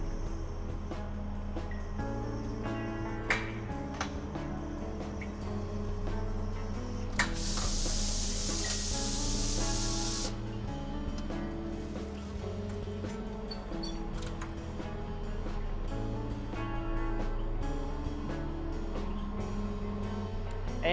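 An automatic screen printing press with an ROQ foil attachment cycles mechanically, with rhythmic clunks and motor hum throughout and a loud sustained pneumatic hiss lasting several seconds midway, no one talking.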